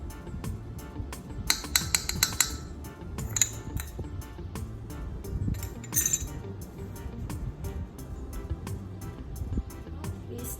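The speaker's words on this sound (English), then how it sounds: "We stir all the ingredients until they are properly mixed." A utensil clinks and scrapes against a bowl while fudgy chocolate brownie batter of cocoa powder, salt and vanilla is stirred, with quick bursts of taps followed by steadier, quieter mixing at close range.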